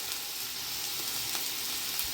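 Fresh curry leaves hit hot oil in a kadai and sizzle in a soft, steady crackle with light spatter, heard close but quietly and without any talking.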